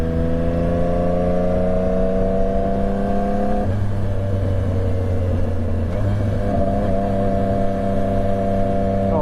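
A Yamaha R9 motorcycle with a tuned DominatoR GP3 exhaust revs loudly up close, its harmonic engine tone holding steady, dropping sharply, then settling into a lower throaty idle before climbing again.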